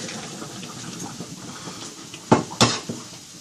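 Cooked macaroni twists poured from a pot in a kitchen, a soft wet rushing slide followed by two sharp metallic clanks of the pot near the end.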